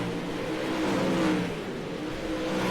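Pro late model race cars roar around the dirt oval at Limaland, a dense, continuous engine drone from a distance that swells slightly as the pack passes.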